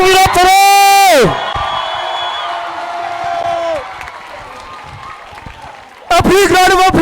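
Crowd at the Kliptown Youth Program campus opening erupts in cheering and whoops for the KYP artists, with loud sustained applause between amplified voices, a speaker talking over the noise.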